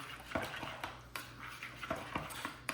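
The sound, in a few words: stirring salt into a pot of water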